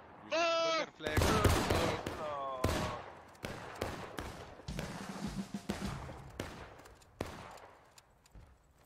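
Musket volleys ring out in the Civil War shooter War of Rights: loud, close broadband cracks that come in a ragged burst and then as scattered, repeated shots, with shouted voices among them.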